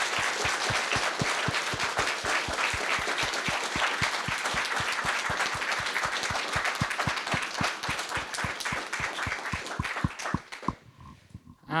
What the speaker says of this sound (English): Can we get one more round of applause for these amazing students